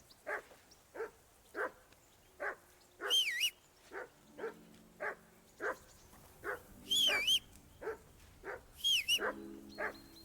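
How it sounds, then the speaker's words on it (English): A dog barks repeatedly in the medieval video game Kingdom Come Deliverance II, with sharp evenly spaced barks close by, broken by a few whining yelps over faint background music. "Hey, call off that dog and then we can talk."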